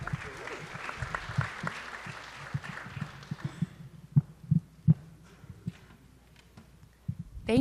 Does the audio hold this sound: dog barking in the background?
no